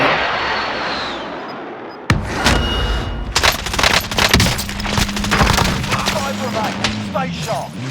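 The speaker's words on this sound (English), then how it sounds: "Not the airstrike, dude. Are you serious? It took forever for that to come in, man." An airstrike aircraft drones overhead in Call of Duty Warzone, a rising engine roar followed by a sudden loud impact and rattling bursts of gunfire and blasts, with a voice speaking briefly in the mix.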